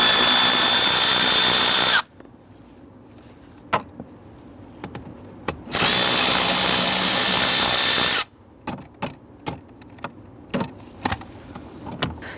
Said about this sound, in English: loosen and remove the two 7mm screws